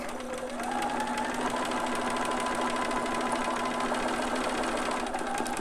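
A sewing machine runs continuously in a loud, even mechanical whir with a rising pitch as it stitches a ruffle on a newborn romper, close and uninterrupted.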